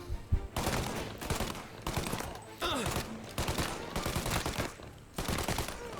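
Tommy gun fire in the video game Mafia Definitive Edition comes in loud rapid bursts of automatic shots, separated by short pauses, with one quieter gap and a brief metallic ring midway.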